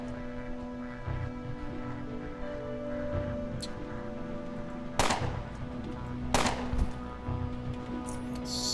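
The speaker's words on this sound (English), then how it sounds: "Let's try crit shooting the psionicist." Gunfire in the turn-based RPG Underrail as a psionicist is crit-shot: two sharp, fairly loud shots a second or so apart over a steady low game-ambience hum.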